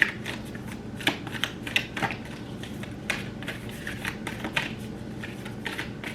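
Tarot cards shuffled by hand in a steady run of soft riffling flicks and taps, close and moderately quiet, with no talk over them.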